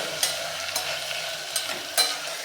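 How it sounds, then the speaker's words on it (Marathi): Vegetables frying in a pan with sambar masala and coriander powder for sambar rice, a soft steady sizzle broken by a few light stirring scrapes, close and alone with no talk. "आता या मसाल्यांसोबत साधारण दोन मिनटं ह्या भाज्या आपण छान थोड्याशा शिजवून घेऊयात"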